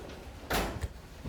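Door opening or closing with a single dull thump and short rustle partway through, moderately near against faint room background, no talk.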